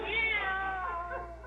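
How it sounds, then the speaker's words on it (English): A cat's meow serves as a sound effect in an old radio comedy: one loud, drawn-out, wavering meow that falls slowly in pitch, heard alone over a faint steady hum. "I'm certain that was a cat."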